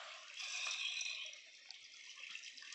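Water hissing and spraying from a burst supply line, a steady rushing wash with a few small drip-like ticks, fairly faint and with no voices.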